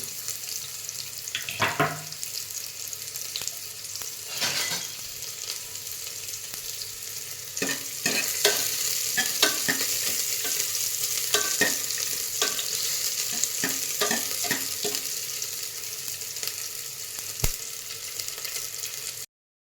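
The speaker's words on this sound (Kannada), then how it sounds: "ಎಣ್ಣೆ ಬಿಸಿ ಆದಮೇಲೆ ಈರುಳ್ಳಿ ಹಾಕ್ತಾಯಿದ್ದೀನಿ, ಅರ್ಧ ಈರುಳ್ಳಿ." Half an onion fries in hot oil with a continuous sizzle, while a spoon knocks and scrapes against the pan in irregular bursts, fairly close and alone.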